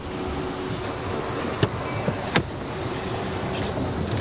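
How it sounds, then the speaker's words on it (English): A Waymo self-driving car unlocks with a couple of short mechanical clunks from the door locks, heard close over a steady hum of ambient street and vehicle noise. "Unlock the car."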